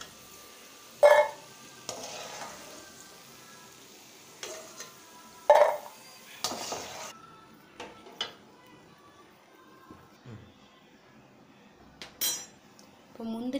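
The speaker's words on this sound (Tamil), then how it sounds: "இப்போ முந்திரி வறுத்து எடுத்தாச்சு." Cashews fried in a pan are lifted out with a spoon, giving sparse metallic scrapes and clinks against the pan and a bowl over a faint background sizzle, with quiet gaps between; no talking.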